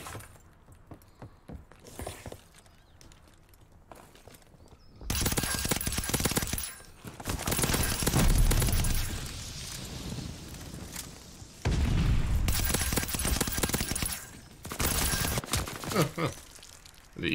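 Gunfire in a first-person shooter video game: several dense bursts of rapid shots and booms, loud and crackling, separated by quieter stretches with lighter game sounds.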